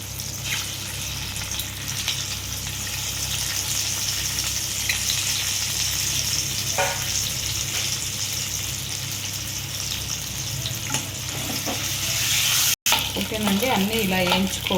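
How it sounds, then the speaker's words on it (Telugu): Boiled eggs frying with turmeric in an egg masala pan, a steady close sizzle with scraping stirs throughout and a brief break near the end. "పసుపు వేసుకొని ఈ ఎగ్స్ అన్నీ వేసేసుకొని వేయించుకోవాలి"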